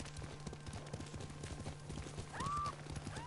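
Rhythmic hoofbeats of a galloping horse in Ghost of Tsushima, steady and close, with a brief whinny-like tone and a faint hum underneath.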